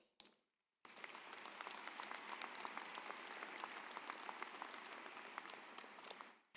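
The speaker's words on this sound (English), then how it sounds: "Please give yourself a round of applause" A commencement crowd at Augustana College gives the graduates steady, sustained applause after a brief quieter lead-in.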